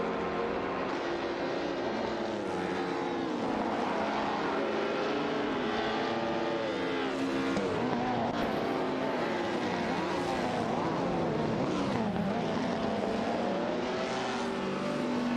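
Race cars roar along in an AI racing video game, a continuous loud engine drone with rising and falling pitch sweeps as cars accelerate and pass, steady throughout with no pauses.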